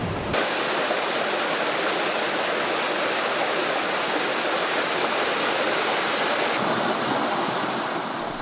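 Water rushing steadily in a valley stream, a dense, constant hiss and splash that fills the whole stretch without pause.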